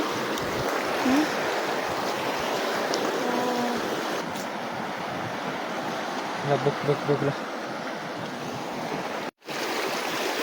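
A shallow river stream flows steadily in the open air, a broadband water rush that holds throughout, with brief knocks and faint voices under it and a short dropout near the end.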